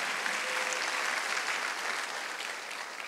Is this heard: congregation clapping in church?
yes